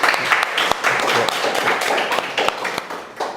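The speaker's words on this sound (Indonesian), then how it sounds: "Kasih aplaus" Applause from a classroom audience during an entrepreneurship lesson, a dense burst of many hands clapping close by that carries on steadily, with a few sharper claps standing out.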